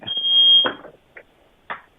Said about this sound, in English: It's just I don't know where the alarm is that's going off.